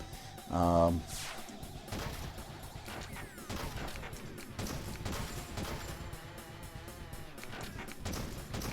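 Lightgun shooting video game emulated in MAME, with a burst of gunshots near the start followed by game music and effects, a voice talking throughout.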